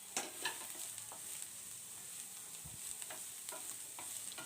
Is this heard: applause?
no